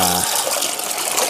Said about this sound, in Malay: Air dia dalam sinki ni kita buang.